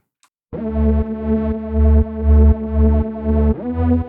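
A distorted, buzzy synth bass layer transposed up an octave and a fifth plays a steady pulsing pattern of sustained notes, loud and upfront with a chorus-like shimmer, with no other sounds.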